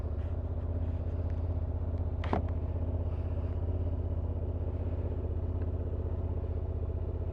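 Close by, a 2023 Honda XL750 Transalp idles on its standard exhaust with a steady, even low thrum, broken once by a brief sharp click partway through.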